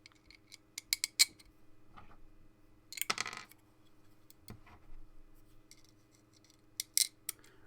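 A wrench tightens screws on a $99 3D printer, heard as close, faint metallic ticks, clicks and short scraping bursts in irregular clusters against near silence.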